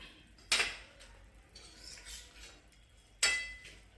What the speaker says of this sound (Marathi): आणि आता आपण हे वडा असा कापून घ्यायचा आहे.